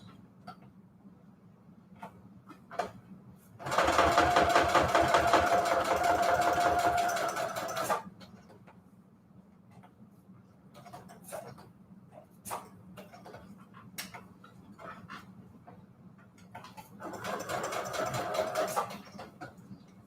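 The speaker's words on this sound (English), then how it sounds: "I'm just gonna sew all the way around." Sewing machine stitching around the edge of a Tim Holtz Alterations die-cut tag, running in two steady bursts: a long loud run of several seconds, then a shorter run after a pause filled with faint clicks and handling.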